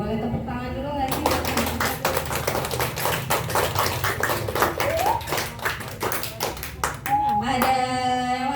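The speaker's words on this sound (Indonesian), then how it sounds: "boleh tepuk tangan dulu nggak sih?" An audience at a school earthquake and flood disaster-preparedness presentation breaks into a burst of rapid hand clapping lasting several seconds, with voices talking before and after it.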